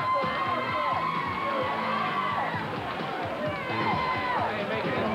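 Wrestling fans cheer and shout in a Championship Wrestling TV studio as a wrestler comes out, a loud continuous crowd roar with whoops and excited voices throughout.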